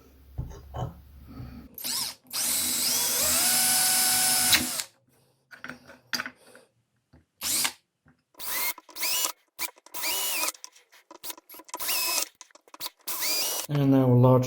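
A power drill bores pilot holes in a metal stompbox enclosure in loud, close bursts of whining motor and cutting, with short pauses and clicks between them.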